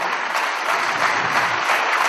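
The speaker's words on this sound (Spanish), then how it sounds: "Por favor, un gran aplauso para un gran defensor de los derechos humanos" Applause from an audience for bishop Federico Pagura at a public talk, a dense, steady wash of clapping with no breaks and no voices.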